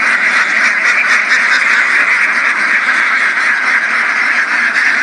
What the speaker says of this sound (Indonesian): Inilah bebek-bebek itu sudah mulai turun dan ini digiring dengan bendera merah.